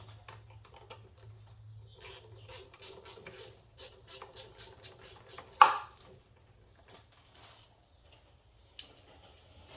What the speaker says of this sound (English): loosen up this intake hose coupler, 7mm socket